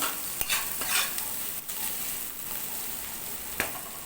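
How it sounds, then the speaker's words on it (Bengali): Chopped garlic is stirred in a pan over a medium flame while making spicy masala Maggi, a steady sizzle with a few sharp scrapes of the spoon against the pan. "এরপরে ভালো করে মিডিয়াম ফ্লেমে এটাকে নাড়াচাড়া করে নেব"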